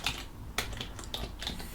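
A computer keyboard is typed on in a brisk, irregular patter of light clicks, close and continuous, with no voices.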